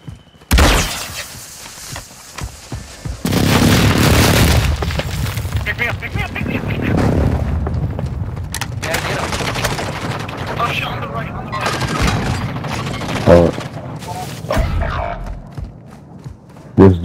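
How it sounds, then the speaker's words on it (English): A precision airstrike in Call of Duty Modern Warfare II lands as loud, booming explosions and crackling gunfire, with a heavy blast early and a long rumbling barrage after it, while players talk. "Enemy precision airstrike."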